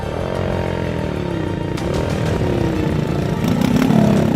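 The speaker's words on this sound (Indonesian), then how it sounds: "Tim Indonesiaku harus menumpang motor modifikasi yang mampu mengangkut muatan lebih banyak." A modified motorcycle taxi climbs a slippery, meter-wide dirt mountain track, its mid-pitched engine revving loudly and continuously up close, rising and falling as it labors, with occasional knocks and rattles.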